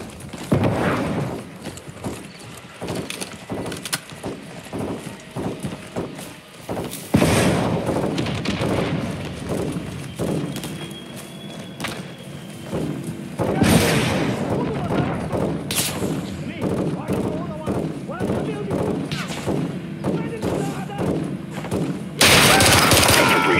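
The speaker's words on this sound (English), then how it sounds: "Crash site is taking rocket fire from Building 2!" Sustained combat around a building in Call of Duty Modern Warfare 2, with repeated thudding rocket impacts and booms among steady bursts of gunfire, loud and close, and brief voices over the din.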